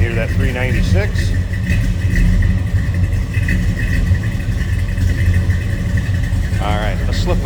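A 1970 Chevrolet Chevelle with a 396 V8 idles steadily. The low engine rumble runs throughout, with brief whines and clicks in the background.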